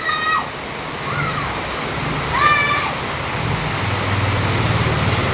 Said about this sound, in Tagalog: But the rain is still so strong.